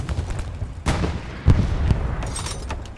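Heavy gunfire from a Sherman tank in a combat video game, with booming shots near 0.9 s and 1.5 s followed by a rumbling battlefield tail and scattered smaller reports.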